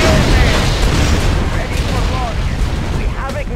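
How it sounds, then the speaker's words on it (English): V3 missile launch in Red Alert 2: Yuri's Revenge, a loud, sustained roaring rumble with booming bursts throughout, overlaid by a voice speaking. "Missile launch confirmed"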